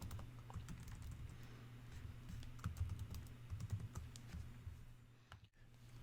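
Code being typed on a computer keyboard: quiet, rapid, irregular key clicks in continuous bursts at close range, with a low background hum and no talking.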